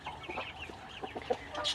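Chickens cluck softly in quick, scattered notes nearby, with a few higher chirps mixed in, quiet and unhurried.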